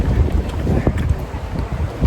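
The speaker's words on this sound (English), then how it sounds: "It's breezy." Cold, breezy wind at Newport Beach buffeting the microphone in low rumbling gusts, loud and close, with no voices.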